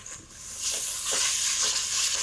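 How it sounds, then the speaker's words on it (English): A steady, bright sizzle of rice frying in a pan for mushroom risotto, hissing continuously and swelling slightly in intensity. "And just that little sizzle at the frying."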